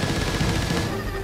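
Dense, continuous rattle of rapid gunfire from the sci-fi shooter Firefall, loud and close, with overlapping shots packed tightly through the whole moment and no talking.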